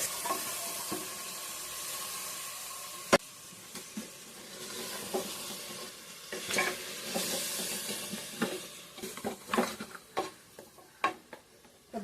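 Mutton trotters simmering in a pan of garam masala, ground coriander and dried coconut, giving a soft steady sizzle with scattered stirring clicks and scrapes, close and moderately quiet with no talking.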